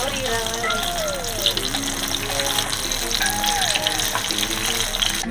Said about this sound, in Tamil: அந்த பொரியிற சவுண்டே சூப்பரா இருக்குதுல்ல